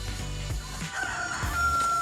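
A rooster crows at an off-grid RV camper site, a drawn-out call rising near the end over a low background rumble, with a few soft clucks around it.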